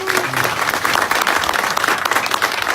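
Loud, close applause from an audience at a KTM event for an interviewee, a dense steady patter of many clapping hands, with a brief tonal sound at the start.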